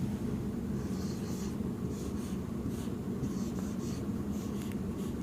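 Pen or chalk writing out a maths solution to a linear inequalities problem, a steady faint scratching of strokes running throughout over a low background hum, with no voice present.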